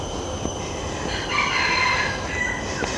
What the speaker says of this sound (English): Oh, really lots of roosters here.